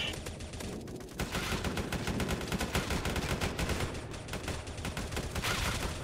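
Rapid automatic gunfire in the Roblox game rBREACH, dense overlapping shots crackling continuously and loudly throughout with no pause.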